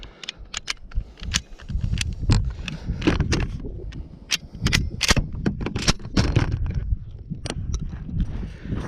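Shotgun blasts outdoors at an informal shooting spot, a series of sharp loud reports spaced irregularly over steady background rumble and clatter.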